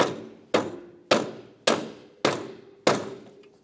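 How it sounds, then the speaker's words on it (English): A rubber mallet taps a front strut and spring assembly into position on a 1994-1997 Honda Accord, six sharp, evenly spaced thumps about half a second apart, close and alone. "You can use a rubber mallet along the bottom if you need to."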